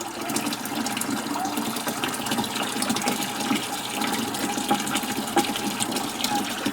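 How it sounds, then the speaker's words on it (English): Hot water pours into a bucket in a steady, continuous splashing gush that stays close and even throughout, with no talk over it. "you want to get a bucket and you want to fill the bucket with hot water"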